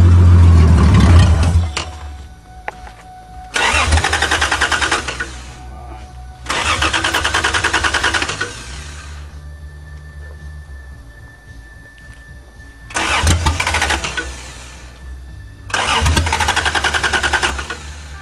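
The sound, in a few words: 1982 Toyota Cressida engine starting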